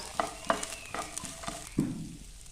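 Chopped onions being sautéed in a pan for a Kannur-style prawn fry, with a few sharp stirring knocks and scrapes over a soft, steady background sizzle, close and moderately quiet.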